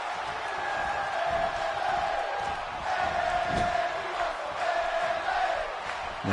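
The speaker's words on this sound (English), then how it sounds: "the crowd here in Atlantic City behind Bayley" A wrestling crowd in Atlantic City roars steadily throughout, a dense wash of cheering and shouting with a brief louder swell near the middle.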